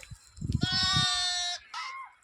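A sheep held in a net enclosure in a forest gives one long, loud, wavering bleat, then a shorter second bleat, with some soft rustling just before.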